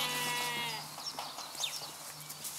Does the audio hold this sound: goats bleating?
yes